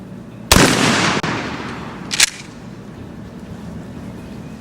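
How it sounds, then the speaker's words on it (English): A shotgun loaded with turkey shells fires one sharp, loud blast at a target 30 yards away outdoors, followed by a second crack about two seconds later, then fading noise. "I'm shooting at 30, and we're going to shoot at 40"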